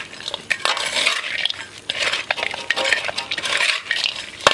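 Potting soil being mixed with base fertilizer by hand, a close, loud gritty scraping and rustling that comes in repeated bursts, with no talk over it.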